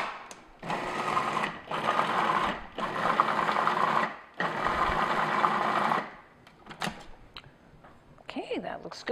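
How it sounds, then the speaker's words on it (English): Food processor blending cream cheese brownie batter, running in four loud, steady bursts with short pauses between them, followed by quieter scraping and handling sounds. "Food processor makes really quick work of that."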